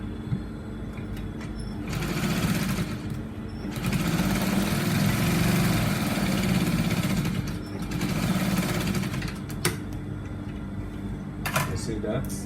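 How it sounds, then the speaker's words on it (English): A sewing machine runs in steady bursts while stitching a button-up shirt with collar, working from the center before the closing; the motor hum rises and falls across several runs, close up and moderately loud. "I mostly stitch from the center before I stitch the closing"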